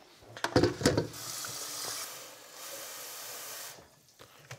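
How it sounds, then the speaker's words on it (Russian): Tap water running into an electric kettle in a kitchen, a steady hissing stream after a few clunks and knocks as the kettle is handled, fairly quiet and close, with no speech. "Ну что ж, я опять набираю чайник."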